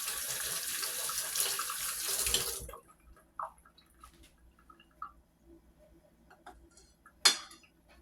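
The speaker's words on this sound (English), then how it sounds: "Let me rinse the spoon off." Tap water runs steadily as a spoon is rinsed under a kitchen faucet, a loud rush for a couple of seconds that stops abruptly, followed by a few soft clinks and a sharp metallic clatter near the end.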